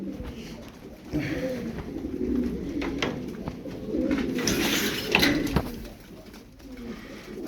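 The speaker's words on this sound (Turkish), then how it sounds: "Buraya bir tane daha kuş atayım ben." Fancy pigeons coo softly and repeatedly at close range, with someone talking intermittently among the birds.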